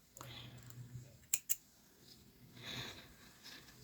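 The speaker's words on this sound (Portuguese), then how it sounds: "E agora eu vou cortar o fio." Scissors snip through crochet yarn while a baby's penguin crochet hat is being made, giving two quick, close, crisp cuts in a quiet room.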